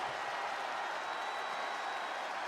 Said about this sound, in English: Feeling the love from the crowd.